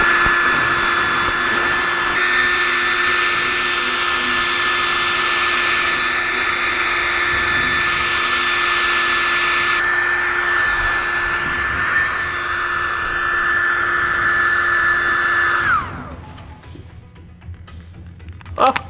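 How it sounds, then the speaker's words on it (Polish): A hair dryer blows hot air into a balloon during a thermal physics lesson, a loud steady whirring roar with a high whine that runs continuously for about fifteen seconds, then cuts off abruptly, leaving a quiet room. "Wkładam suszarkę do wnętrza balonu i ładujemy ją gorącym powietrzem."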